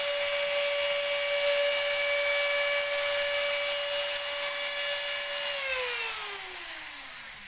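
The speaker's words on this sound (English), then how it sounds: "Drilling away, and hopefully we can just break this apart." A small high-pitched drill grinds steadily into a model ship to break out the old motor, a loud continuous whine that drops in pitch near the end as the bit slows.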